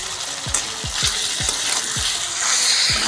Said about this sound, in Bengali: মশলাটা কষে নেব একটু